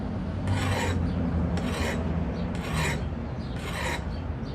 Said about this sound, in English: hit your axe or your tomahawk, and just work off all those burrs that might be on there